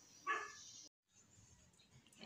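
A single dog bark rings out, moderately close, at a free barangay pet vaccination event, followed by a brief dropout and quiet background noise.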